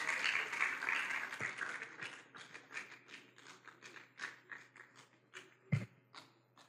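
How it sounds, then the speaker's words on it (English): An audience at an academic workshop lecture claps, loud and dense at first, then thinning into scattered, fading hand claps. "I think you deserve a better round of applause."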